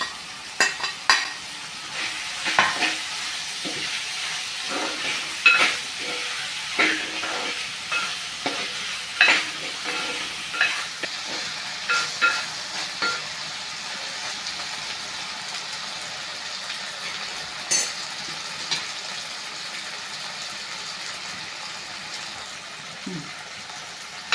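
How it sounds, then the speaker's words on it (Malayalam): Sliced potato and onion sautéing in a pan for a potato-onion curry with roasted coconut, with a steady soft sizzle broken by repeated scraping stirs of a utensil, close and moderately quiet, with no talking. "ഉരുളക്കിഴങ്ങും സവോളയും ഒന്ന് വഴന്ന് കിട്ടണം ഒന്ന് ഇളക്കി കൊടുക്കണം"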